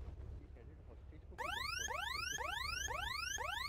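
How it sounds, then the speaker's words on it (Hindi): Car alarm-style siren kicks in after a moment of background murmur, loud rising electronic whoops repeating rapidly and evenly, close and dominant. "ये आवाज है सायरन?"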